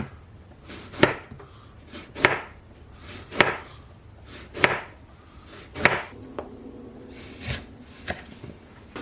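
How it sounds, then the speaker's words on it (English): An eggplant being sliced with a knife on a board into quarter-inch pieces, giving about seven distinct, evenly spaced chops at a steady rhythm, fairly quiet and close. "Now we gotta slice this up about 1/4 of an inch is fine."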